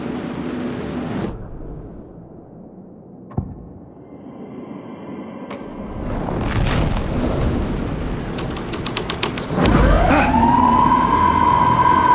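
A police car siren wails in the Alan Wake 2 game, rising out of a dark, low rumbling ambience with a few sharp impacts before settling into a loud, sustained tone near the end.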